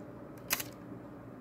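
The shutter of a Rolleicord twin-lens reflex camera fires once, a crisp, close mechanical click with a faint lighter tick just before and after it in an otherwise quiet room.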